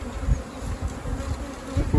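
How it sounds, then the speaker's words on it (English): Native honeybees fly close past the microphone during a hive rescue in Mallorca, a loud, continuous buzzing drone that swells and fades as individual bees pass near, with no voices. "Those are bees flying in front of my camera."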